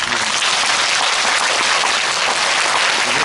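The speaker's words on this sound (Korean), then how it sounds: "박수 한번 주세요" Dense, steady applause from a crowd at a talk concert, a continuous wash of clapping that holds at an even level throughout.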